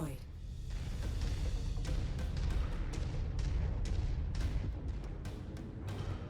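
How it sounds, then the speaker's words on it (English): Heavy booming explosions and weapon fire rumble throughout a MechWarrior 5: Mercenaries mech battle, a dense, continuous low roar punctuated by sharp bursts, with no clear speech over it. "And I just heard a big explosion in the distance."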